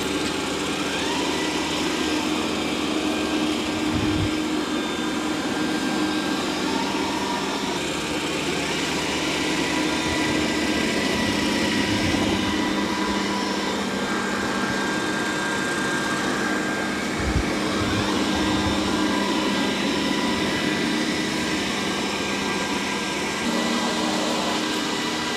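Dreame D10 Plus Gen 2 robot vacuum and mop working over a muddy floor, a steady close whirring motor hum that runs unbroken with slight shifts in pitch as it moves back and forth.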